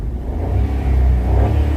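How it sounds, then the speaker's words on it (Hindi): A car engine runs steadily up close, a deep low rumble with slight swells in revving, continuing while the car is driven on a nearly empty tank with the fuel warning light on; no talking. "आवाज़ सुन रहे हैं ये गाड़ी बिल्कुल चल रही है"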